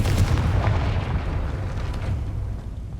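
A Confringo blasting spell from Hogwarts Legacy goes off as a loud, deep explosive boom with a rumbling tail that slowly fades over a few seconds.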